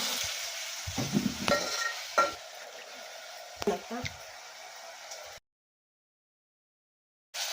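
Gongura chicken being stirred in a frying pan gives a few scraping, clinking strokes over a soft sizzle, close by, with talk during it before a cut to silence.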